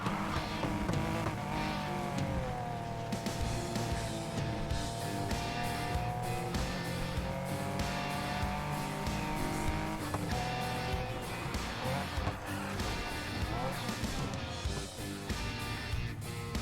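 Mazda RX-7 in the racing game Need for Speed Heat, its engine tone running continuously under a dense, loud game soundtrack, with faint tire squeal mixed in throughout.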